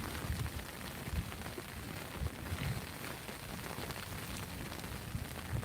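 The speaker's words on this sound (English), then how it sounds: "Sounds like the rain might be just easing up a bit there." Rain pattering on surfaces during a stormy sea-fishing outing in Storm Goretti, a steady dense hiss of drops with occasional gusty thumps, moderately faint and continuous without talk.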